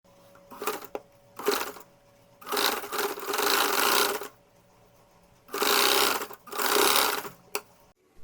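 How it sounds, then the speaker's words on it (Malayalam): A sewing machine stitches a cotton cloth face mask in several bursts of rapid whirring, short ones first and then longer runs, with quiet pauses between them. "ഇനി നമുക്ക് ഇത് ഇങ്ങനെ മടക്കി വെച്ചിട്ട് തയ്ക്കാം."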